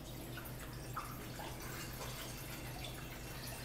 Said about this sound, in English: I'm going to pour it into this larger container.